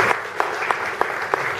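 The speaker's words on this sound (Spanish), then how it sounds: "a quien quiero pedir un fuerte aplauso" An audience at Aisito Restobar applauds a performer, a steady wash of clapping with regular accented beats about every third of a second standing out above it.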